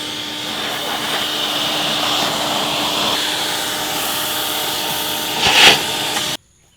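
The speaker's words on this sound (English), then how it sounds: "And now I'm going to vacuum the extra sand I got around the edges out." A loud, steady vacuum roar with hissing suction picks up sand for several seconds, rises briefly near the end, then cuts off abruptly.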